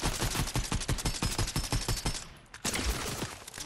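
Gunfire in a Fortnite duos battle royale match: a rapid, rhythmic string of close, loud shots, a brief pause, then more firing.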